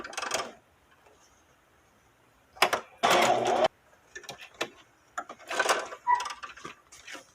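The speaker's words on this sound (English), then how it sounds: "Just going to do a straight stitch right around the edge." A sewing machine runs a straight stitch around the edge of a small fabric envelope in short loud bursts, separated by quiet gaps and light handling clicks.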